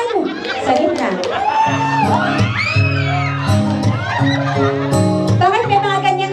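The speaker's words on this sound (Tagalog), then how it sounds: "Bakit may mga ganyang sigawan?" A crowd of people shouts, whoops and cheers loudly and continuously, with excited voices overlapping.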